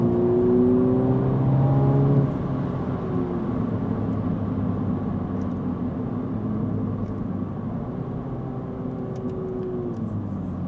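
A new Mini John Cooper Works engine revs with rising pitch, then settles into a steady drone under a loud, continuous roar.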